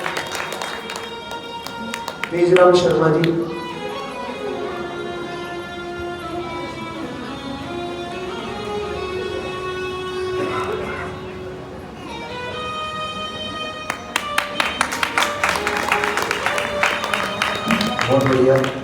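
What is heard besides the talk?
audience applause during Bhagwat Katha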